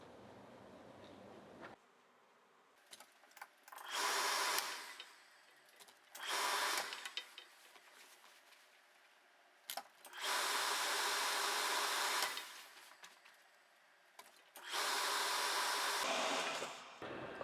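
Steam iron pressing dress fabric along a seam: four separate bursts of loud hissing steam, each lasting one to two seconds, with near-quiet stretches between them.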